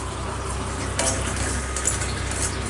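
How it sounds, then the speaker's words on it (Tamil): Foxtail millet roasts in ghee in a pan, giving a steady close sizzle with scraping stir strokes and small pops throughout, without any voices. "அதை நல்லா நெய்யில் ரோஸ்ட் பண்ணிவிட்டு நல்லா கொஞ்சம் வாசனை வர வரைக்கும்"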